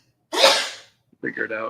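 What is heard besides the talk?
sneeze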